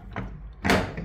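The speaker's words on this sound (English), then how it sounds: "Right, well, I've tried everything with this door." A church door being pushed and pulled, giving two dull thuds and rattles: a softer knock, then a louder heavy clunk a moment later, close by.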